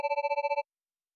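A telephone rings with one short electronic two-tone trill, a rapid warbling burst lasting about half a second, then cuts to silence, set in a convenience-store horror audio drama.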